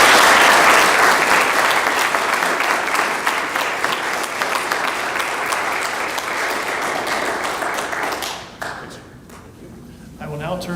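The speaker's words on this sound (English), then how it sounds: "let us offer a round of applause for our new Eagle Scout" Warm, dense audience clapping at an Eagle Scout ceremony, loud and steady before thinning out abruptly near the end as a few last claps and murmurs remain.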